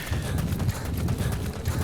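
A horse in Metal Gear Solid 5: Phantom Pain gallops with a quick, steady clip-clop of hooves, close and fairly loud throughout.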